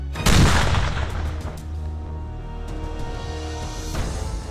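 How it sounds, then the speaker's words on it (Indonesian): A sharp, loud explosive blast in a military frogman combat-training setting, a sudden boom followed by a long rumbling roar and scattered crackling debris that fades slowly, with a second smaller burst near the end. "ledakan!"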